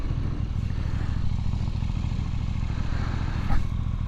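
A KTM Duke 890R motorcycle engine runs with a steady, close, throbbing drone, and a faint clatter and a brief swell are heard near the end.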